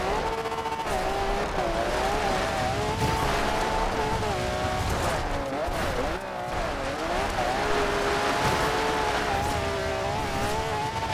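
Video-game 1998 Toyota Supra RZ fitted with a big front V12 and untuned all-wheel drive, its engine droning loud and continuous with shifting revs and tyre noise throughout, with no pauses.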